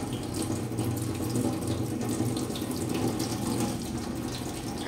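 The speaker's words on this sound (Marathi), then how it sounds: "दुसरं पाणी काढून घ्यायचं." Water being poured off soaking semolina makes a steady, close running-water splash, like a tap into a sink, continuous and alone without speech.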